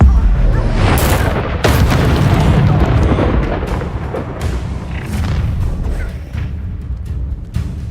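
A fire spell blast in the Hogwarts Legacy video game, a loud booming burst followed by crackling rumble and a slow fading decay, with a few sharp impacts and brief voices in the mix.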